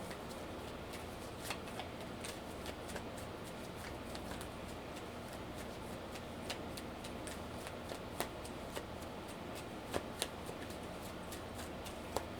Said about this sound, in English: So let's pull some cards, or clarifiers.